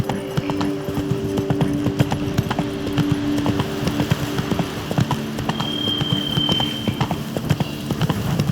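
Roach the horse gallops in The Witcher 3, hooves clip-clopping in a steady rapid rhythm, close and loud over a continuous game ambience with a brief high tone partway through.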